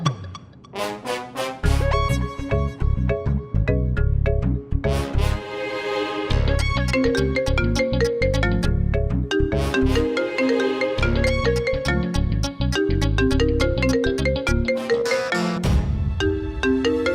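A phone ringtone plays as a loud, upbeat musical tune with a strong rhythmic beat, repeating without break and with no voices.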